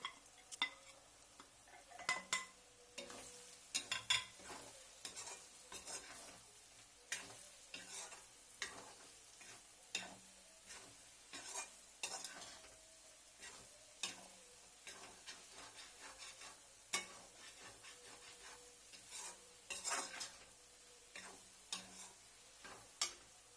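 Chili, turmeric and fenugreek powders being stirred into an ash gourd pickle in a pan, a soft sizzle under frequent quick scraping and tapping of the spoon, quiet and close.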